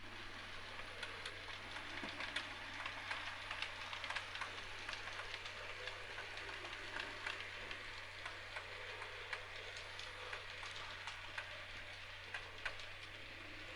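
A model railway train runs on a layout: a faint, continuous fine rattling of small wheels over track joints under a steady low hum, heard alone.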